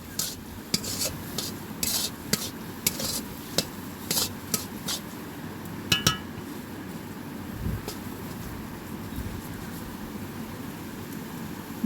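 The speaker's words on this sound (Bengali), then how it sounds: "মাঝে মাঝে একটু নাড়াচাড়া করে নেব যাতে তলায় লেগে না যায়।" Fried shrimp and taro flower are stirred in a pan. A spoon scrapes and clicks against the metal in irregular strokes over a faint, steady background hiss, with no voices.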